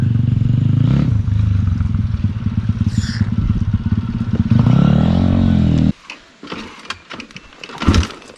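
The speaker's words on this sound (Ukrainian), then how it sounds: "Мотоцикл не хоче такого хардкору." Spark 250D-1 pit bike (FT250CBA) riding off-road, its engine droning loud and steady for about six seconds before cutting to rattles, scrapes and clatter from the rough ground.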